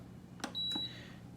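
A Power XL cooker gives a single clear electronic beep as its start button is pressed, with a brief button click just before it, close and fairly quiet.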